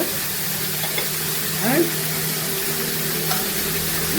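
Brinjal strips being stirred in a hot pan with salt and turmeric, a steady sizzle of frying with soft scraping stir strokes close by, no talk over it.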